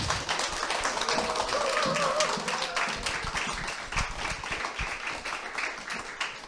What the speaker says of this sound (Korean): 먼저 1강의 이양수 스타마스터님 나오실 때 환영의 박수 부탁드리겠습니다.